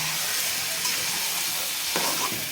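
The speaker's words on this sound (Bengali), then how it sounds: "অপোজিট একটি চুলায় আমাদের মুরগির মাংস এখনও ভাজা হচ্ছে" Chicken pieces fry in oil in a home kitchen, producing a close, even crackling sizzle with a brief stirring scrape partway through.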